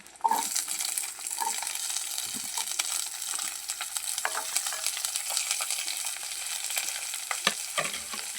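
Onion fries in a pan with a bright, continuous sizzle, joined by occasional stirring scrapes and clicks of a utensil.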